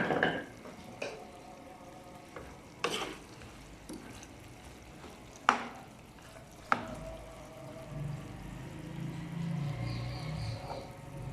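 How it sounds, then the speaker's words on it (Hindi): Soya (dill), coriander and green chilies frying in a home kitchen for a salted chicken dish, with a low steady sizzle, occasional sharp spatula clacks against the pan, and a louder bubbling stretch near the end. "और इसकी थोड़ी सी करेंगे भुनाई"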